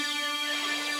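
A single held note from the Alchemy Water Shredder synth lead with the Bit Crusher bypassed, bright and harmonically rich with an intense high end, steady and moderately loud, alone without talk.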